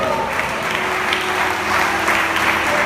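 A crowd claps steadily and loudly for a few seconds, a continuous wash of applause.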